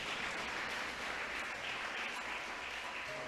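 A church congregation applauds the Lord, producing a dense, even wash of clapping that sounds fairly distant and quiet and continues steadily throughout.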